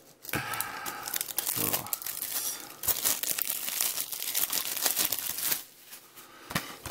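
A sticker is peeled from a plastic Blu-ray case, producing a long, close stretch of crackling, crinkling and tearing noise, with a brief spoken word near the start.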